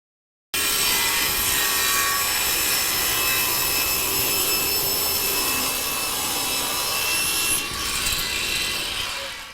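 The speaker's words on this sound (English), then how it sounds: "What I'm going to do is sand this down." Steady, loud abrasive sanding on a block of micarta with a little wood left on it, running continuously for about nine seconds with a slight change in texture near the end.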